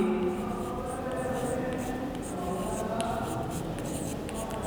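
Marker or chalk scratching across a classroom board during a maths lesson on heights and distances, a steady continuous scraping with small strokes, close and moderately loud with no talking.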